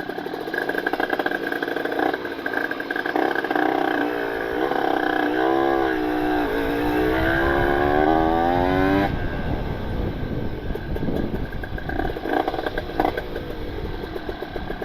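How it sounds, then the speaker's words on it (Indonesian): A Yamaha RXZ motorcycle engine revs loudly and continuously, its pitch climbing and falling through gear changes, steady and close with no talking. "Sepengennya motor nih, mau kemana nih ngegasnya."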